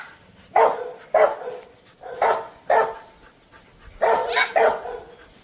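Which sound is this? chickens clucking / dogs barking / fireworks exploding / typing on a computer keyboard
dogs barking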